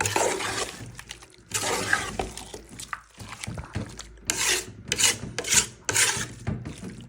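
Beef and potatoes are mixed by hand in a bowl, with close irregular squelching and rubbing strokes in uneven bursts.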